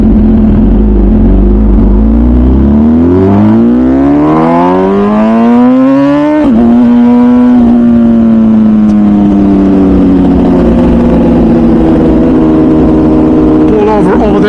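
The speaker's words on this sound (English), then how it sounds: "The downshifts are so crispy. You know, you get the pops, you get the backfire." A Ducati or MV Agusta sport motorcycle roars close by, its engine revving up through a long rising pull, then a sharp shift and a steady high drone that slowly eases off.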